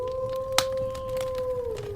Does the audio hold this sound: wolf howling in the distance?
yes